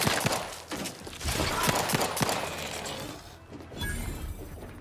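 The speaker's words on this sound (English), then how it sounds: "Explosive grenades. Fun." Explosive grenades detonating in the video game The Outer Worlds 2, a rapid cluster of loud, sharp bursts and shattering crashes over the first few seconds, then fading into quieter game ambience.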